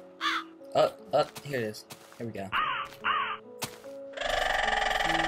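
A bird from the Mo' Creatures mod in Minecraft, played on a server, gives a series of harsh crow-like caws between bits of someone talking, and loud game music then starts.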